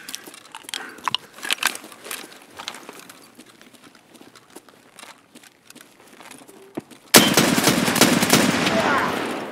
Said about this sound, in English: Suppressed UMP.